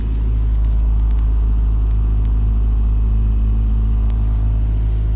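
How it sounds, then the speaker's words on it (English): Car engine idling just after a slow-cranking cold start at -30C, a loud, steady, low rumble close by, holding even throughout with no revving. "She cranked over slow, but she fired up."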